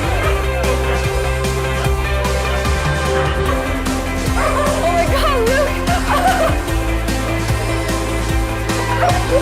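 Dogs and puppies at a stray dog shelter in Yangon bark and yip repeatedly over continuous music, with some whimpering mixed in.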